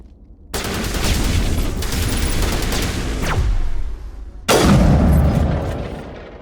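Sustained bursts of heavy automatic gunfire from the Mass Effect video game rattle loudly for several seconds, pause briefly, then resume with a booming burst, with no talking.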